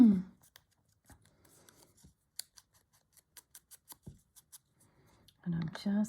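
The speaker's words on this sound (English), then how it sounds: "Need to snip it just a little bit more." Small scissors give a run of crisp, faint snips as they trim the edge of a little paper stamp, close and quiet, with a voice at the very start and the very end.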